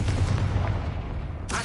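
A fiery blasting-curse explosion in the Hogwarts Legacy video game, a single loud close boom that rumbles and decays over a second before a sharp new burst at the end.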